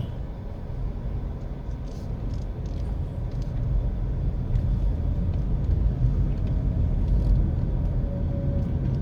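A car drives steadily through a residential community of new apartment complexes near Musgrave Avenue, giving a continuous low road rumble and engine hum that grows slightly louder partway through, with no voices.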